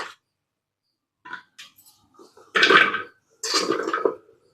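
Chopped carrots dropped into a pressure cooker, heard as a few light clinks and then two louder bursts of pieces tumbling and rattling against metal, close by with no talking.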